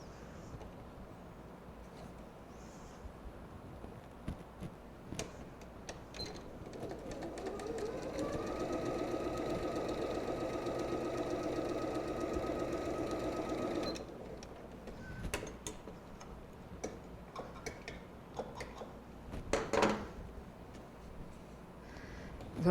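A sewing machine stitches fabric in a steady, fast mechanical whir lasting several seconds, framed by scattered clicks and handling knocks before and after the run.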